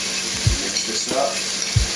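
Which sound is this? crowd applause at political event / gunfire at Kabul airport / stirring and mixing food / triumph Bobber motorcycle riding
stirring and mixing food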